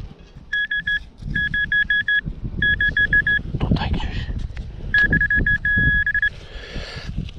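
Rapid, high-pitched electronic beeps in several bursts, a Nokta Makro metal detector's signal tone pulsing over outdoor rustling while someone talks; the target is a piece of aluminium.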